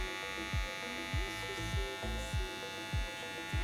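A Xiaomi electric hair clipper running with a steady, close buzzing hum, punctuated by repeated knocking or clicking thumps roughly every half second as it is handled.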